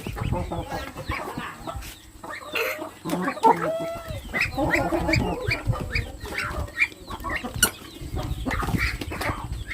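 Chickens cluck repeatedly at close range amid farmyard bustle, with a few louder calls and occasional wing flaps, while a voice is briefly heard in the background.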